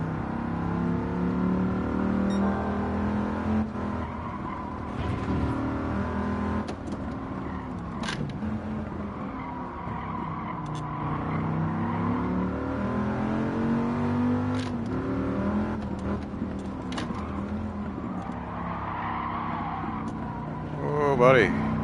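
Six-speed race car engine in Gran Turismo, played in VR with a G29 wheel, revving steadily and close throughout, with harmonic engine tones rising and falling under continuous talk.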